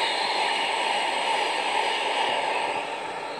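A passing train on a British railway line gives a steady, moderately loud rushing roar that holds for several seconds and eases slightly at the end.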